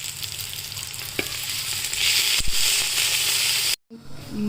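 Chicken frying in a hot pan for chicken pulao gives a loud, steady sizzle with occasional stirring knocks, cutting off abruptly near the end.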